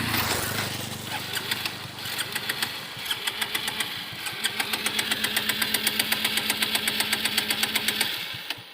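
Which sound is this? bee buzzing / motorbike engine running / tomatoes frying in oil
motorbike engine running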